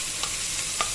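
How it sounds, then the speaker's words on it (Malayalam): Onions and tomatoes sautéing in a pan for a chicken offal dish, a continuous loud sizzle with two sharp scrapes of a spatula stirring, no voices. "ഉള്ളിയും തക്കാളിയൊക്കെ വഴറ്റിയിട്ട്"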